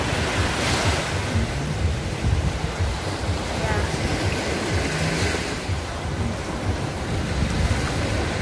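Sea waves washing onto a beach, a steady broadband surf roar with wind buffeting the microphone throughout, no speech.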